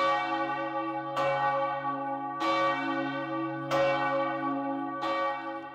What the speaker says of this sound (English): There was that sound again, like church bells ringing.